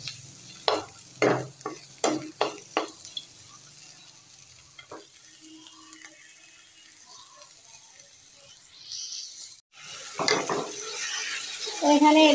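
Bitter gourd fry (karela bhaji) scraped and stirred in a pan with a spatula, then lifted out: a run of sharp, rhythmic scraping knocks up close, a quiet stretch, and a rising soft clatter and hiss at the end.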